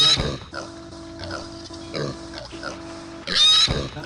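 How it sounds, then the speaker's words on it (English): Loud pig in Warcraft Adventures: Lord of the Clans, oinking and snorting in bursts, with loud squeals at the start and again near the end over a steady humming tone. "I'm seriously annoyed at how loud that pig is."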